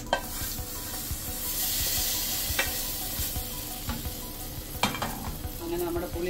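Mustard seeds fry in oil for a Kerala puliyinchi tempering, giving a continuous sizzle with irregular popping crackles and a few louder snaps.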